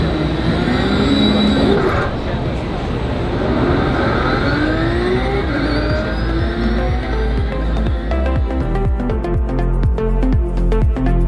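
Toyota Supra engine sound from a driving simulator at an auto show, a loud revving engine rising and falling, then rapid rhythmic pulsing, with busy crowd noise underneath.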